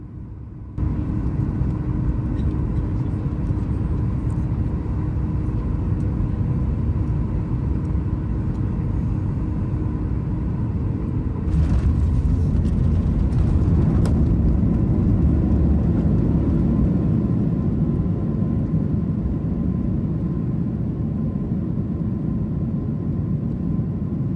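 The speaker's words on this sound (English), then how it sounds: "Enjoy our landing on Midway's runway 31 center." Inside the cabin of a Southwest Boeing 737 MAX 8 landing on Midway's runway 31 center: a loud, constant rumble and whir that swells and roughens midway as the jet touches down and decelerates.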